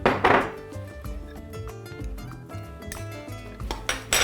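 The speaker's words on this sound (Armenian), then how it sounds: "և լավ խառնում ենք։" A spoon clanks against a metal pot while ingredients are stirred for a shrimp and mushroom soup, sending several loud clinks and scrapes up close, busiest at the start and end with quieter rattling in between.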